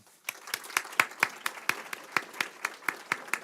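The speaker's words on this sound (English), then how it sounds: "So again, I think a round of applause for them is" Elementary school students receive a round of applause at a school board meeting: a small group claps in sparse, distinct, fairly regular claps that start after a brief pause, with no talk over them.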